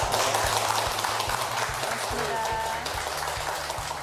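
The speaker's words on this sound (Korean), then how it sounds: "오늘 좋은 강연해 주신 공수대학교 이혜준 명예교수님께 다시 한번 박수 부탁드립니다" An audience applauds a lecturer, an honorary professor, after a university special lecture; steady broadband clapping fills the hall at moderate level alongside a low hum and some voices.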